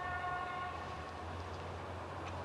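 Railway station ambience from 1968, a train hum rumbling steadily with a faint sustained horn-like tone fading early, continuous and moderately distant with no talk.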